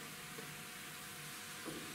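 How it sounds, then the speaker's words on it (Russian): Carrots frying in a preheated pan over medium heat for plov give a steady, even sizzle and hiss that carries through the whole stretch with no talk. "Пока обжаривается морква, прям хорошенько-хорошенько обжарим"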